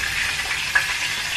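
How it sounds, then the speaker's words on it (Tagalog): Gluten-free lumpiang Shanghai spring rolls frying in hot oil, a steady close hiss and fine crackle running without a break, one small pop midway. "Nagpiprito pa ako ng gluten-free na itong lumpiang Shanghai."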